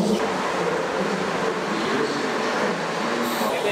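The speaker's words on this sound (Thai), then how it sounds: "พวกเรามาขึ้นรถไฟไปเทอร์นอฟที่สถานีปรากฮารับนินาดาสิ" A train at Prague's main station, bound for Turnov, gives a steady, loud broadband roar and hiss that holds evenly throughout, with no clear speech over it.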